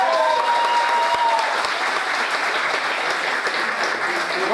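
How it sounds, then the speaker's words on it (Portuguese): Steady applause from a crowd at an amateur MMA fight after a submission win, dense and continuous clapping filling the whole stretch, fairly loud and close. "Um aplauso aí pro Guilherme e pro Zé"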